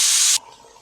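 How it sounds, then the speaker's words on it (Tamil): Water is poured over a cup of seeraga samba rice, set to soak for a mutton dum biryani. A short, close, hissing splash lasts about a third of a second, then drops to a faint trickle. "இப்போது 1 கப் அளவு சீரக சம்பா ரைஸை தண்ணி ஊற்றி ஒரு 20 நிமிஷம் போல் ஊற வச்சுக்கலாம்."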